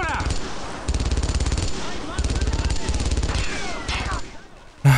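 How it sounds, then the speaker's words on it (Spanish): Machine gun fire from the World War II video game Brothers In Arms: Earned in Blood, with rapid bursts of automatic gunfire repeating in a steady rattle, broken by short pauses and ending in a sudden loud thump. "los disparos del otro escuadrón disparándole la MG para llamar atención."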